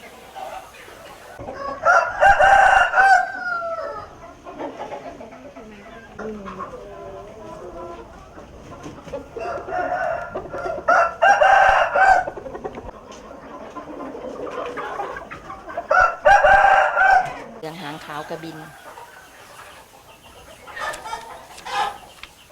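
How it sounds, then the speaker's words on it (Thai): Leuang Dong Yo chickens, a Thai dual-purpose breed, cluck steadily while a rooster crows loudly three times at regular intervals, close by, with a person speaking between the crows. "ไก่เหลืองดงยอนะคะเป็นไก่ ที่ถูกผสมพันธุ์มาจากไก่ตำห่วงและก็ ไก่ รสไทย"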